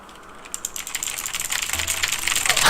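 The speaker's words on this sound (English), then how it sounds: "This keyboard is so loud." Fast, loud clicking of a computer keyboard being typed on, a dense rattling patter that grows busier and louder toward the end, close up with no talking.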